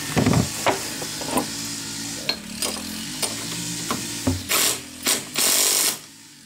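A ratchet tightens a lock nut onto a 1/4 inch bolt used as a pin on a jet ski dock, giving short clicking bursts with pauses between them and a longer run of ratcheting near the end.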